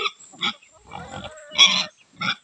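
Pig on a farm in Marinduque grunting at midday feeding time, several short close-up grunts and squeals coming in uneven bursts with brief quiet gaps between them.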